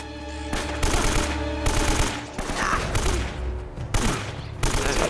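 An AK rifle in Uncharted: Drake's Fortune fires several loud, close automatic bursts separated by short pauses, each a rapid rattle of shots.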